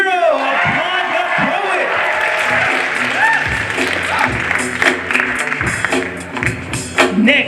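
A crowd at a ninth-grade school poetry slam applauds and cheers for a poet, loud and continuous clapping mixed with whoops and overlapping voices.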